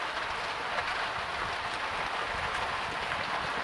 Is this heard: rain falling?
yes